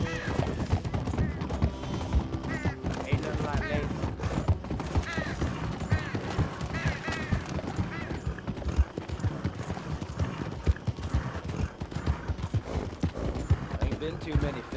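Horse hooves clip-clop steadily in the Red Dead Redemption 2 video game, a continuous rhythmic plodding under dense game sound and talking voices throughout.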